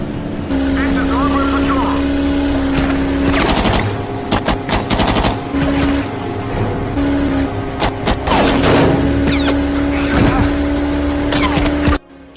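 A speedboat engine roars loudly at full throttle with a steady tone, broken by bursts of rapid gunfire, sharp cracks and impacts, and ends abruptly.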